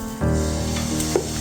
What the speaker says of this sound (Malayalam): ഇനി ദോശ ഇടാൻ പോവുകയാണ്.